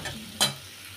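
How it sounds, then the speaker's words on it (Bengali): Spices sautéing in a pan with fried egg, potato and slit green chillies for a tangy-spicy village-style curry: a soft sizzle under a single short scrape or clatter of a spoon midway, then quieter frying. "দিয়ে আমি খুব ভালোভাবে কষিয়ে নেব যতক্ষণ পর্যন্ত মশলাগুলো সব কিছুর গায়ে না ঢুকে যায়।"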